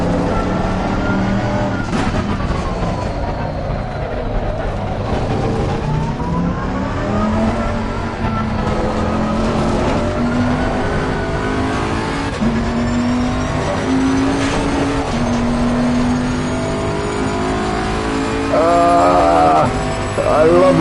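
A race car engine in a racing video game revs and drones continuously, pitch climbing and dropping through gear changes, with a brief higher-pitched whine near the end and no talking over it.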